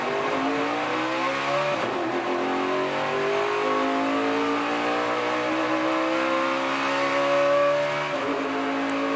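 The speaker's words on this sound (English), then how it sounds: "See, now he's going right to red line on each shift." Dale Earnhardt Jr.'s race car launches off pit road during practice before the 2017 Daytona 500, its engine revving steadily up through the gears with rising pitch and short breaks at each shift, loud and close.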